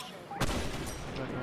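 A sharp burst of gunfire in the competitive shooter Blackshot, where a P90 is in use, cracks out once and leaves a brief noisy tail after a quiet start.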